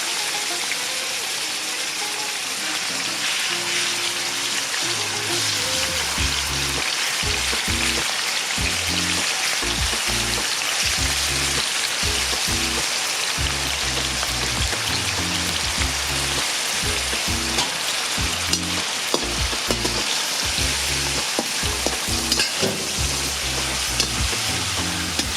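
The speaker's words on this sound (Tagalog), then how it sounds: "I-fried muna natin siya." Beef steak fries in oil in a pan, a loud continuous sizzle with crackling pops and occasional stirring scrapes, steady throughout with no talk.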